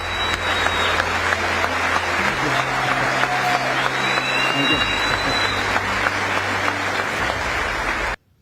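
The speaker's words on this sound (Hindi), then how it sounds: "पूरा अमेरिकी संसद तालियों की गड़गड़ाहट से गूंज उठा।" Sustained applause fills the chamber of the US Congress, a dense roar of many hands clapping under a low hum, ending abruptly.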